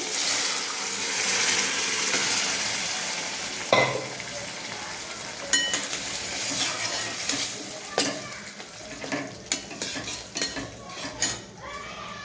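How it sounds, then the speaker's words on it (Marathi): Boiled chickpeas tipped into masala frying in oil in a pan: a steady sizzle, then a sharp splash and burst of crackling, followed by uneven scraping and clinking from stirring with a utensil. "हे झाले आपले छोले भी छान तेल सुटलंय मसाल्याला। आता घेते छोले टाकून।"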